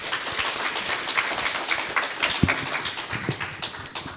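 An audience at a Busan forum on suicide bereavement gives a round of applause: moderate, scattered clapping with some individual claps standing out, sustained for several seconds in a hall.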